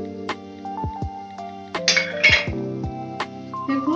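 A spoon clinks repeatedly against a metal bowl or pot while flour is mixed into cauliflower, giving sharp ringing taps scattered irregularly and close by, with no talking.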